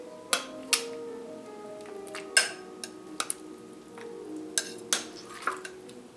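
Slow-cooked BBQ ribs being turned and moved around in a pan, with scattered metallic clanks and scrapes at irregular intervals over a quiet background.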